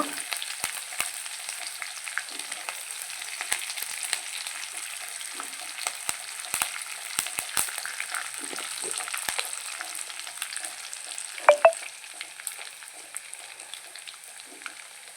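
Shallots and curry leaves fry in a pan with a steady, close, broadband sizzle and crackle, a few sharper pops near the end; no talking.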